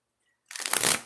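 Oracle cards are shuffled in one quick, close riffling burst of papery rustle that swells and fades within a second, with no voices.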